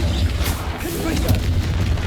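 In the Hogwarts Legacy video game, the Confringo blasting spell sets off deep, booming explosions in quick succession, loud and close, with a person talking over the blasts.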